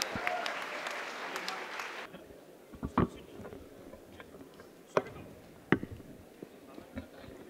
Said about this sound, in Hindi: आप लोग जोरदार ताली बजा के बुलाइए